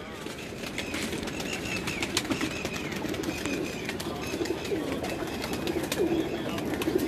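Pigeons coo steadily on a rooftop loft, low repeated murmurs layered under busy ambient noise and occasional flapping, while people talk nearby.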